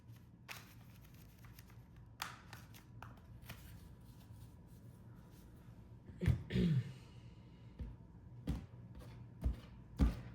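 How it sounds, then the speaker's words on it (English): Tarot cards being shuffled in soft, quick riffles, with a few sharper taps and handling noises in between; close and fairly quiet. "now the tarot I will shuffle"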